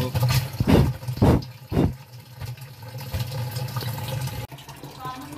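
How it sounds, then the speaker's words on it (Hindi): Water runs through a pipe into an air cooler's tank, a steady rushing flow beneath a low hum and a few loud bursts of noise at the start. "अब इसके अंदर से पानी जाता होगा, देखना"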